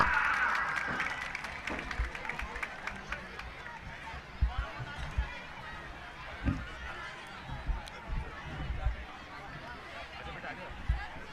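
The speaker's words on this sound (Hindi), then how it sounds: "जोरदार तालियां।" A large crowd at a Republic Day ceremony in Kotputli applauds, a steady wash of clapping from a distance with scattered louder claps and a voice over it.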